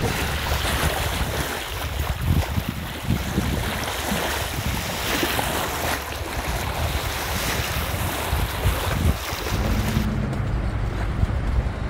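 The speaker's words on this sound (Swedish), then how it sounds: "Kommer det in lite vågor och swell." Continuous sloshing of waves and swell around a boat at anchor off Greece's Ionian islands, mixed with gusty wind rumble on the microphone; no speech.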